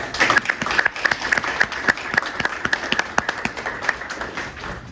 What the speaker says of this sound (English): I want to give you all a round of applause on this evening